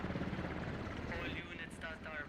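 A military helicopter in the Squad video game drones steadily with a rotor hum under a busy game soundscape, faint and continuous throughout.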